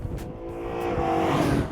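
A sports car accelerating hard at high speed, its engine note rising steadily in pitch and growing louder over a couple of seconds, with a faint tyre-like hiss underneath and no voices.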